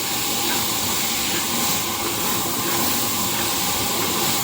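Chopped tomatoes sauté in a pan, producing a loud, dense, unbroken hiss of steam and spattering oil, close up and without talk.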